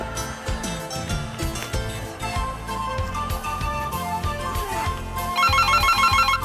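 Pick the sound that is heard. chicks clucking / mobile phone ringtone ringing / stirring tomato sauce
mobile phone ringtone ringing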